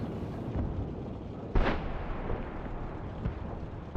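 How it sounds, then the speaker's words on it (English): T-28 tank main gun firing in an online tank battle game, a single deep booming shot partway through, heavy and close, over constant engine rumble and battlefield ambience. "With the T-28, when it is fully aimed, unlike the T-28 Proto, this thing is actually pretty accurate. So I am able to shoot over that building and hit him."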